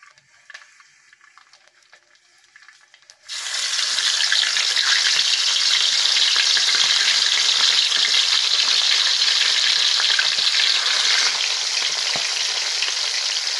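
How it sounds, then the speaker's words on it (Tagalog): After a few quiet seconds, a loud sizzle erupts as garlic hits hot oil and keeps frying steadily, close and bright. "Lagay tayo ng bawang pampabango."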